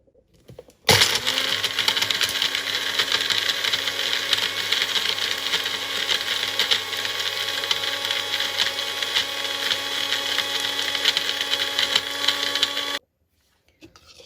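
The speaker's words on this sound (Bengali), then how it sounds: "তো আমি এখন সব মশলাগুলো এই জারে নিয়ে একসাথে করে এটাকে ব্লেন্ড করে নিচ্ছি।" An electric blender grinds a dry haleem spice mix in a jar, starting abruptly and running as a loud, steady whine with a constant motor hum for about twelve seconds, then cutting off sharply.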